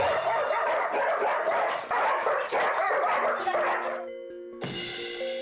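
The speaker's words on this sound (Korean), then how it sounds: "곰이를 보자마자 맹렬히 짖는 복실이" A Pungsan dog barks fiercely at an English Sheepdog, a dense run of loud, close barks and yips for about four seconds, then a brief pause before more whining and barking.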